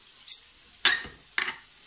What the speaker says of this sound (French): Et on va mélanger comme ceci.